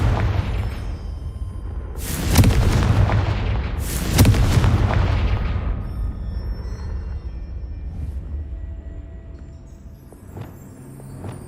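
Confringo spell blasts in the Hogwarts Legacy video game land as two loud booming explosions a couple of seconds apart, each trailing into a rumbling decay over steady background noise, with a few fainter pops afterward.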